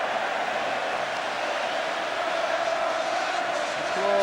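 A massive stadium crowd roars in celebration at the 1984 Everton vs Watford football match, a continuous dense wall of cheering and chanting heard from within the stands.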